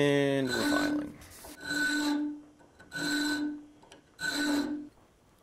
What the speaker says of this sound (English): And we're filing.